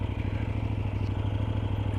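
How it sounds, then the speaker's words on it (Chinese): A KOVE 800X adventure motorcycle engine running steadily, a close, even low-pitched throb with a slightly noisy mechanical clatter, no talk. "发动机稍微有一点点嘈杂"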